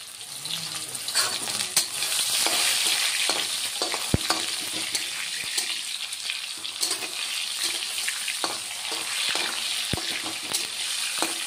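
Ground cumin and bay leaves fry in hot oil for a vegetarian bottle gourd greens dish, giving a steady close sizzle broken by sharp clicks of a spoon stirring against the pan.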